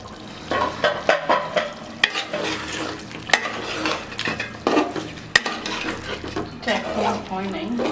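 Chicken biryani masala sizzles in a pot while a utensil scrapes and stirs it in repeated strokes, with clattering knocks against the metal sides, close and fairly loud.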